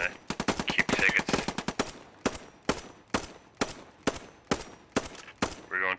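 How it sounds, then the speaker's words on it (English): Machine gun fire in an online multiplayer shooter match, starting with a fast rattling burst and then continuing as single loud, evenly spaced shots close by, with a brief voice at the end. "We've got an MG."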